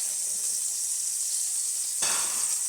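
Sous vide pork tenderloin sears in a hot pan, a loud continuous high hiss and sizzle that flares up suddenly as the meat is turned.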